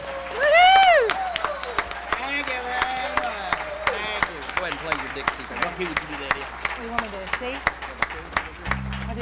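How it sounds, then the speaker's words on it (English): Applause from the crowd at a barnyard bash, with scattered claps heard under a person's voice and other sounds, fairly loud throughout and carrying on to the end. "would you give a nice round of applause to Brother Gary Cremines?"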